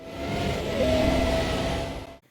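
A car engine in Need for Speed Undercover hums and revs steadily, close and fairly loud, then cuts off abruptly at the end.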